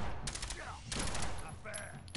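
Rapid video game gunfire crackles in short, close bursts over about two seconds, with a voice heard faintly among the shots.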